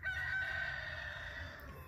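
A rooster on a farm crows in one long, drawn-out call, fairly faint and somewhat distant over low background rumble.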